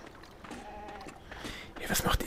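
A sheep bleats with a wavering, drawn-out cry in a Beyond: Two Souls game scene, moderately close against a low background hum, before a louder, noisier burst of sound near the end.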